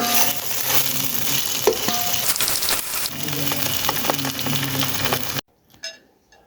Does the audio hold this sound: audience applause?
no